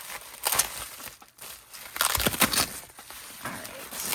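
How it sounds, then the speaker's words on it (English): Plastic packaging crinkles and crackles close up in bursts, loud and irregular, with brief quiet gaps between handling. "I'm just gonna slide these out so I can stop making plastic noise on video"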